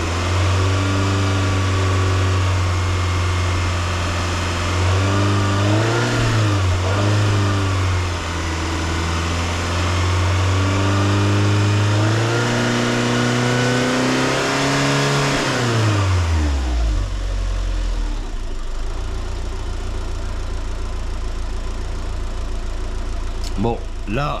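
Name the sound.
car engine revving during head gasket test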